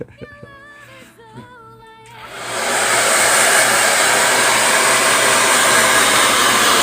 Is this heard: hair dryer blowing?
yes